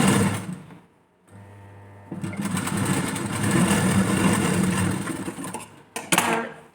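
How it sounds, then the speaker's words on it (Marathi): Sewing machine running a quarter-inch margin stitch on blouse fabric, a steady close mechanical whir that starts after a brief pause and runs continuously. "यावरती आता पाव इंचाची आपल्याला मार्जिन म्हणून एक शिलाई करून द्यायची आहे"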